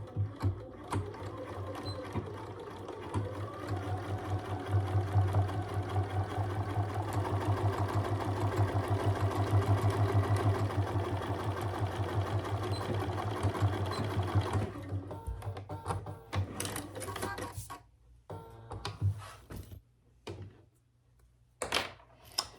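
Sewing machine running steadily as it stitches rows along the sides of a wallet's zipper pocket lining, a loud continuous motor whir for about fifteen seconds, then stopping and starting in short bursts with quieter gaps.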